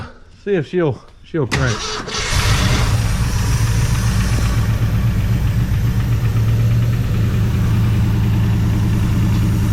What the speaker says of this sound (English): So crank her up and see if she'll crank.